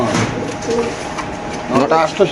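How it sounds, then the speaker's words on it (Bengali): A male pigeon in a cage coos in low, throaty bursts, close by, amid a noisy bird market with voices talking in the background. "এখানে আছে এক পিস কবুতর সামনে দেখাচ্ছি একটা একটা নর কবুতর"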